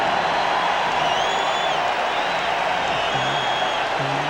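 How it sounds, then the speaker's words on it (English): A basketball arena crowd roars steadily after a Lakers three-pointer by Van Exel against the Bulls in 1997, a loud, sustained wash of cheering with no break. "And this foreign crowd is rocking."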